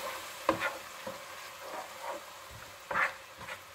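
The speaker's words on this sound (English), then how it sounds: "I'm going to be putting in the vodka, and you're just going to cook this down halfway" Vodka cooks down in a pan for penne vodka sauce with a soft continuous sizzle and occasional scraping stirs of a utensil, quiet and close, with no voices.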